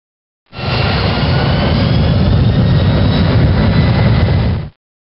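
A Boeing 737NG jet engine roars in reverse thrust with the levers raised to detent 2, a loud, steady broadband rush that starts abruptly, holds for about four seconds and cuts off sharply.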